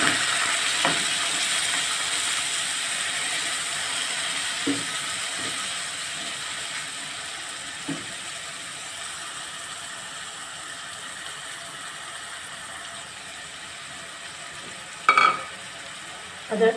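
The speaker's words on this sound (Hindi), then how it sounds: "अब कीमे को अच्छे से फ्राई करना है इसके अंदर, प्याज में और ऑयल में और अदरक लहसुन के अंदर।" Minced meat frying in oil with golden onions, ginger and garlic gives a steady, soft sizzle throughout, broken by a few faint stirring knocks and a louder clatter near the end, with no talking.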